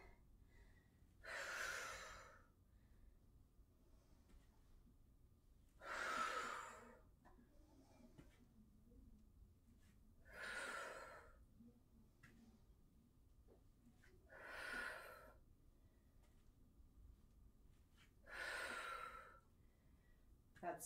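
Heavy exercise breathing during a full-body workout: five forceful exhales about four seconds apart, each a breathy rush, close and fairly loud over a quiet background.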